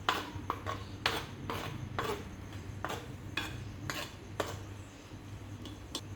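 Heated ingredients for Andhra fish curry are stirred in a pan, heard as repeated metal spoon clinks and scrapes against the cookware in an uneven rhythm over a low hum, close and fairly quiet, with no talking.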